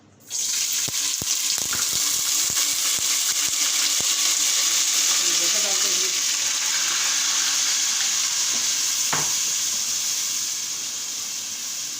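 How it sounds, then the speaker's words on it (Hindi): Garlic ginger paste drops into hot oil and bursts into a loud, continuous sizzle that holds steady throughout and fades only slightly toward the end. "अब सबसे पहले हम इसमें लहसुन अदरक का पेस्ट डालते हैं"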